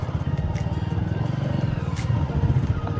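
Motorcycle engines rumble steadily nearby, a low continuous drone with slight throttle changes and no talking.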